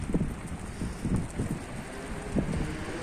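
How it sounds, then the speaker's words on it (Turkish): Strong wind buffets the microphone in rough, uneven gusts, a low rumbling roar with no voices. "felaket bir rüzgar var"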